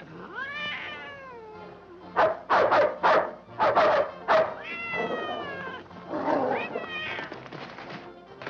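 A cat in a 1952 Western film meows in drawn-out, wavering cries, interrupted midway by several sharp, loud dog barks, with no talking.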